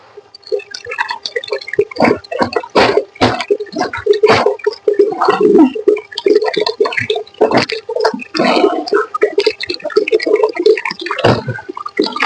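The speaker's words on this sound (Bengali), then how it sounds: "এত পানি পড়লে এমনি কম্বল ভারী হয়ে যায়" A heavy, soaking wet blanket shedding water, with irregular splashes and dripping bursts that keep going steadily, close and fairly loud, and no one talking.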